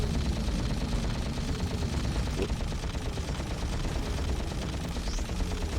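Weapon gunfire in Ratchet & Clank on PS2: a dense, continuous rattle of rapid shots, steady and loud, under a rumbling game soundtrack.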